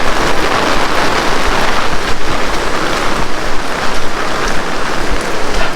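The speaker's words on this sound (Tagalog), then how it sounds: "alakas ang ulan." Heavy rain pours down steadily during a typhoon, a loud, dense hiss with a low rumble that continues unbroken and close by, with no voices over it.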